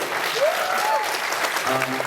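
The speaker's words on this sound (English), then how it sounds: "let's give a round of applause for the cast and crew here" Steady applause from a crowd at a film premiere Q&A fills the whole stretch, dense and even, with a faint voice rising briefly over it.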